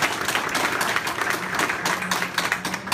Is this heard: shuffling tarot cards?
no